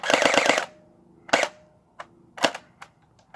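Airsoft rifle, a compact Tavor-style replica, fires a quick full-auto burst that lasts about half a second. A few single sharp cracks follow, fairly loud and close, with no talk.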